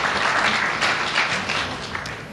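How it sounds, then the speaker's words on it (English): At an evolution versus creationism debate, the audience claps in a brief, loud wash of applause that thins slightly near the end. "Let's give them a round of applause for their hard work."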